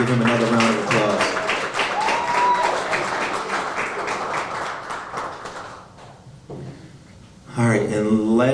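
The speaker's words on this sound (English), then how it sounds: "give him another round of applause." Audience at a school athletes' signing day applauding, a dense, loud round of clapping that fades toward the end before a voice speaks again.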